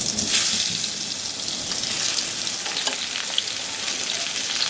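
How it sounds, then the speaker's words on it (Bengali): Pointed gourd coated in salt and turmeric fries in hot oil, a loud, close, dense sizzle that crackles steadily throughout with a few sharper pops. "এই পটলটাকে লবণ হলুদ দিয়ে মেখে সুন্দর করে ভাজতে হবে একেবারে পটলটা।"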